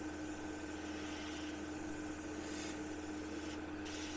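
A steady, even hiss of an airbrush spraying paint onto a 1/32 scale He 111 model runs continuously and fairly quietly, with a constant faint hum underneath.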